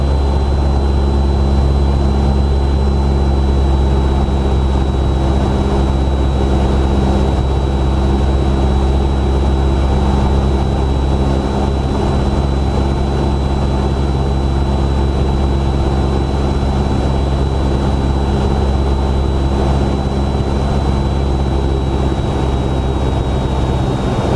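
Steady, loud drone of a Cessna 172R engine and propeller heard from inside the cockpit in flight, continuous and unvarying with a faint high whine over it, no talk.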